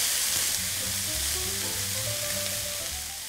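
Cold pie filling of diced carrot, chopped olives and sweetcorn being stirred in a bowl, a steady scraping and mixing texture running throughout with low tonal rumbles beneath, alone and fairly close.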